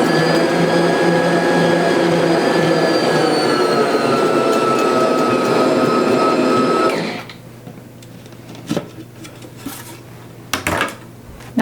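An electric mixer works cookie dough of fresh-milled flour, butter, sugar, eggs and vanilla, giving a loud, steady whirring hum for about seven seconds before it cuts off, leaving quiet clinks and small knocks.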